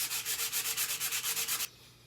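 Knife handle scales for a Grohmann No 4 survival knife being sanded with 150 grit: about a dozen quick, even back-and-forth rasping strokes, close and steady, then stopping abruptly into quiet background.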